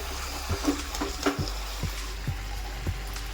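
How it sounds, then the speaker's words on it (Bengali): Chicken frying in a pan for chicken bhuna masala, a steady close sizzle with several soft stirring knocks spaced through it. "আর সামান্য একটু ভেজে নেব"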